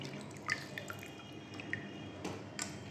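Faint, sparse drips of water fall from squeezed pieces of raw mango being rinsed for morabba, a few light taps over a quiet hiss.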